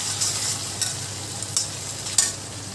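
Onions with garlic and ginger paste fry in hot oil with a continuous soft sizzle, broken by a few brief stirring scrapes, close and steady with no voices.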